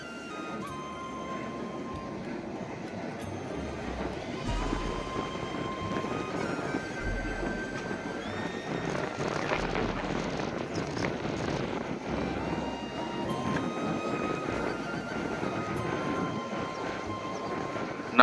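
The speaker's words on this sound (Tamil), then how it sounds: "அந்த விண்மீலோட சவுண்டு உங்களுக்கு கீழே கேட்கும்னு நினைக்கிறேன்" A large windmill turning close by on a hillside at Sholayur near Ooty, a steady broad whooshing drone with low rhythmic pulses, carried with wind against the microphone and no talk.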